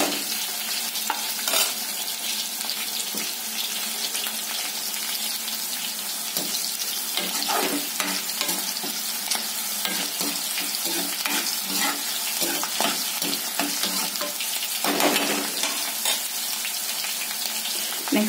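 Green chillies frying in a pan for Telangana rasam hiss with a steady, close sizzle, broken by occasional scraping stirs and a brief splash of water near the end.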